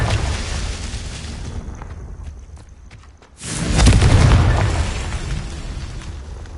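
Confringo fire spell in Hogwarts Legacy, a rushing whoosh building into a heavy booming explosion that rolls and slowly dies away, preceded by crackling magical combat sounds.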